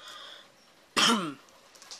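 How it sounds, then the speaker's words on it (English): A single sharp cough breaks a quiet moment, close and loud, then fades back to a faint background. "I think my cough has been lessened. Another one is coming."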